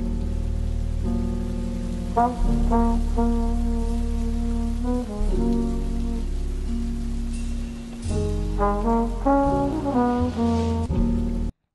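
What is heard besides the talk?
rain sample in a lofi beat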